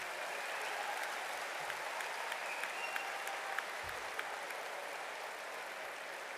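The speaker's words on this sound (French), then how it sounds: "Je voudrais que vous les applaudissiez, s'il vous plaît." Steady applause from a large crowd fills the whole stretch, dense and even, with no voices rising above the clapping.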